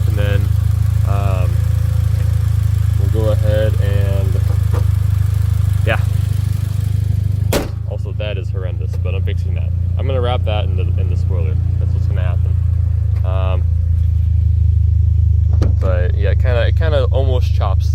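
A Mitsubishi Lancer Evo engine runs with a loud, steady low idle throughout, and someone talks over it at intervals. A brief sharp click cuts through midway.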